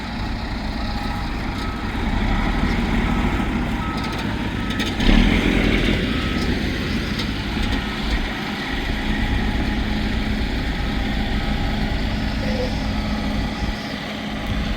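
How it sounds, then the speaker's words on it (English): A dump truck reversing into place to tip its load, heavy diesel engine rumbling and idling close by with reversing beeps, a brief louder clunk partway through, steady and loud without talk. "he's gonna dump that over here, so we'll get a little video of that action"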